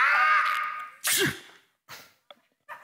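A single sharp sneeze bursts out during an indoor quiz game, preceded by a drawn-out vocal sound and followed by brief breaths and faint rustles.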